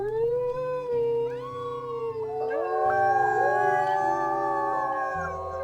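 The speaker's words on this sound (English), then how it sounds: "Everyone is howling right back at us." Several wolves howl together in the WolfQuest video game, long overlapping wavering cries rising and falling in layered chorus over a low droning background score, loud and continuous with no talking.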